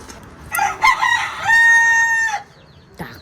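A rooster crows once, loud and nearby on a poultry farm, a drawn-out call with clucking just before it and a short cluck afterward, with no talking.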